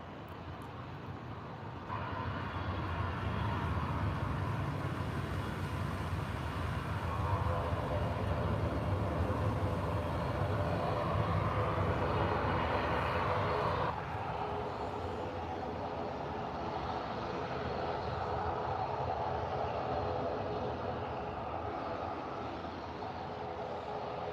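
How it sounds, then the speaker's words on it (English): Aer Lingus ATR 72-600 twin turboprop at Manchester Airport, a steady, droning propeller and engine hum with a tonal whine, loud and sustained, shifting slightly in pitch as the aircraft moves, with no talk over it. "We've got an Aer Lingus ATR 72600. Dual propellers hanging from underneath the wings. I love the sound of these planes."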